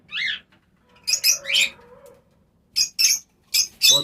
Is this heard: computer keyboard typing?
no